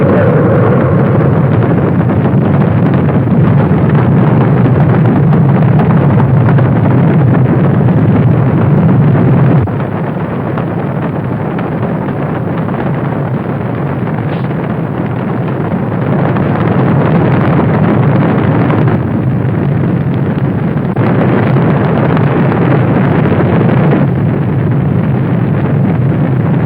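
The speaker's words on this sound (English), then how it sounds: "We are go for main engine ignition. 8, 7, 6. We have main engine ignition." Space Shuttle Columbia's main engines igniting at launch on STS-3, a loud, sustained broadband roar with a deep low rumble and heavy buffeting that drops slightly partway through and then continues steadily.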